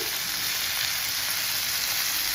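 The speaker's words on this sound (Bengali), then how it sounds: "হালকা করে একটু পেঁয়াজটাকে ভেজে নিয়ে" Onion fries lightly in a pan before noodles go in, making a brief, even, continuous sizzle heard close and alone.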